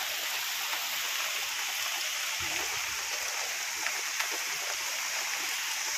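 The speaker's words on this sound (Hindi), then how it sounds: "हमारे गाँव में जोर का बारिश देखो" Steady heavy rain pours down on a village with a constant broad hiss, dense and close, with no voices over it.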